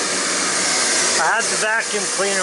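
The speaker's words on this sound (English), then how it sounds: "I have the vacuum cleaner." A vacuum cleaner runs with a steady broadband roar in a shop where a 150,000 BTU heater blows nearby, used to suck up dirt scraped from a Ford 3-cylinder diesel block; someone talks over the continuous hum.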